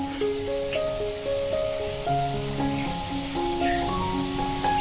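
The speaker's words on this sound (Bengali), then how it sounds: "এবার কড়াতে তেল দিয়ে দেব বাঁধাকপিগুলো ভেজে নেবো" Shredded cabbage sizzling in hot mustard oil in a wok, a steady bright crackle throughout with a tonal melody playing over it.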